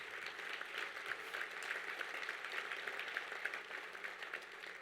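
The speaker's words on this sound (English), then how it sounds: "I think that's worth a round of applause just for that." Sustained audience applause at an award ceremony, a steady wash of many hands clapping at even, moderate loudness for several seconds with no talk over it.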